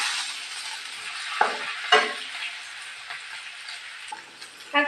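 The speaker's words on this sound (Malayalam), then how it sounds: "നമുക്കിനി ഈ പേസ്റ്റ് ഇട്ട് കൊടുക്കാം. നമുക്കിത് ഇളക്കി കൊടുക്കാം." Paste for an egg roast being stirred in a hot pan: a steady frying hiss with several scraping strokes of a spoon against the pan, close up, with no voices.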